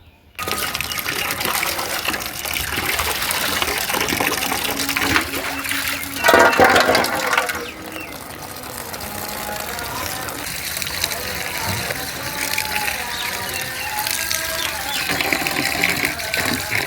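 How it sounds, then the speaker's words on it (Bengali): Tap water runs and splashes while taro (kochu) leaves are washed in a kitchen, a continuous close rush with one louder gushing burst midway. "কচু শাকগুলো আমার ধোয়া হয়ে গেছে।"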